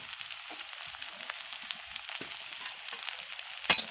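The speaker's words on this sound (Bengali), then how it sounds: "এইবার ভালো করে নাড়াচাড়া করে দিচ্ছি কষিয়ে নিচ্ছি ভালোভাবে" Chopped onions and green chillies frying in a pan while being stirred, a soft steady sizzle with light scraping strokes and one sharper clink near the end, no voices.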